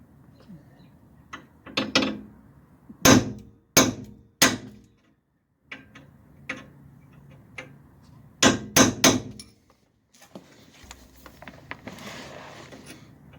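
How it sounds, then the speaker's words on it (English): During restoration work on a 1966 Dodge Dart GT, a hammer strikes a center punch on metal. The blows come as sharp, loud metallic taps in two close clusters, with quiet handling noises between them. "I'm going to center punch this"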